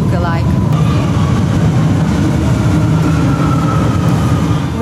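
An old Buenos Aires subway train rumbles loudly along the tracks, a dense continuous roar with a rising whine partway through and faint voices mixed underneath.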